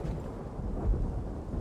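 Thunder rumbles through a Minecraft thunderstorm as a steady, low, rolling roar with a brief swell near the middle, with rain-like hiss underneath and no talk.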